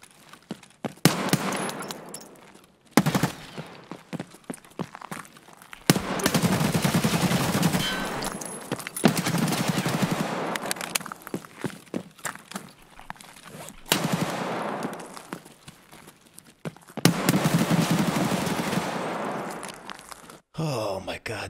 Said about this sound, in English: he shoots fucking seven bullets and he only hits my head